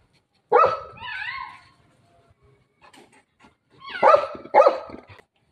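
A dog barks nearby at a cat, a sharp bark followed by a drawn-out whining yelp, then after a short pause two more loud barks.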